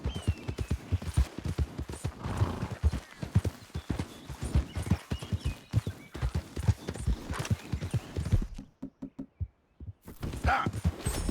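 Horse hooves clip-clop in a video game, a fairly close rhythmic trot with occasional neighing. The hoofbeats pause for a moment of near silence before resuming, with no talking over them.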